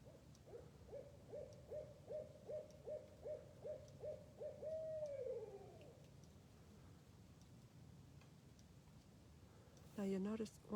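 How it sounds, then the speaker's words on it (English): A barred owl hooting nearby in a rhythmic run of about a dozen evenly spaced hoots that ends in a drawn-out descending call, followed by a short quiet gap and then a brief louder burst. "This again is a barred owl."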